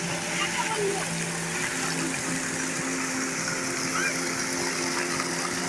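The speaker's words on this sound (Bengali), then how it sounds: "ঝর্ণার জল ওই ওপর থেকে কি সুন্দরভাবে নিচের দিকে বয়ে নেমে আসছে" Fountain water falls and splashes in a continuous close rushing wash at Vrindavan Garden in Mysore, steady throughout, with voices talking over it.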